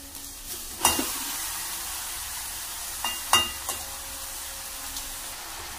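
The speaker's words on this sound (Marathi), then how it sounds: "आता मी याच्यामध्ये टाकणार आहे सोयाबीन आणि नूडल्स" Soybean chunks and noodles stir-fried in a pan, a low steady sizzle broken by a few sharp scrapes and clinks of a spoon against the pan, close and clear.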